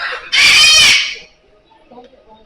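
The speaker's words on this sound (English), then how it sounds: "Found a bird." A bird in a zoo enclosure gives one loud, harsh, rooster-like call lasting under a second, followed by quiet background chatter.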